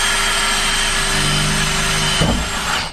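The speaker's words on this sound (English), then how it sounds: "we drill our hole" A power drill whines steadily and loudly close by while drilling a hole through a van roof for a fan, its tone shifting as the bit works through near the end.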